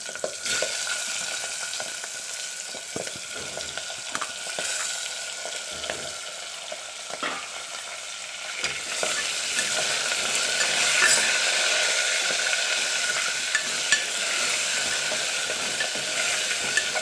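Medium-sized baby potatoes fry in a pan with asafoetida, giving a steady, close sizzle that grows a little louder midway, with scattered clicks and scrapes from stirring; no one speaks.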